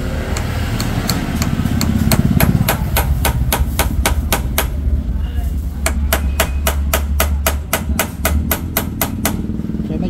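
A hammer taps rapidly and steadily on metal to knock out a part, dozens of sharp evenly spaced strikes in two runs, close and loud over a constant engine-like rumble.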